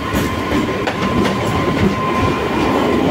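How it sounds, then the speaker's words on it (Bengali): A local train passes close by at night, a loud, continuous rush of wheels clattering on the rails with a faint steady whine, no voices heard. "আর এই পাশ দিয়ে যাচ্ছে লোকাল ট্রেন।"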